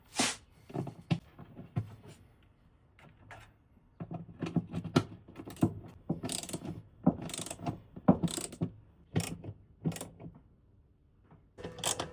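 A ratchet wrench clicks in short, uneven bursts while bolts are tightened on a throttle-body injector being fitted to a ZAZ 965 car, with close mechanical rattles and brief pauses between strokes.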